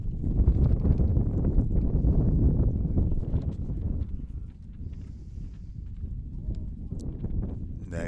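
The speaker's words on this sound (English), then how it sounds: "Winds maintaining that 20-mile-an-hour average." Strong wind buffets the microphone at an outdoor high school baseball field, a loud rumbling gust that holds steady for several seconds and then eases off, with no talk over it.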